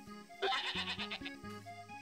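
A goat bleats several times in the farm game Story of Seasons: A Wonderful Life, short wavering cries over a light, looping game melody.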